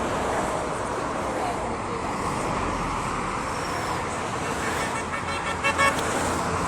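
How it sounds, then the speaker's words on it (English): Steady road traffic on a busy bridge, a continuous loud roar of passing vehicles with wind noise and a brief horn toot near the end. "This is the traffic going south that you're looking at the moment."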